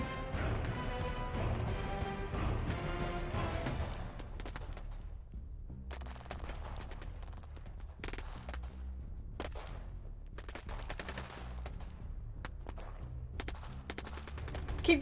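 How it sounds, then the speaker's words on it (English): Rapid bursts of toy-battle gunfire crackle in quick volleys, loud and close, with sharp repeated shots thinning into scattered single cracks in an action figure fight scene. "grab weapons and keep shooting"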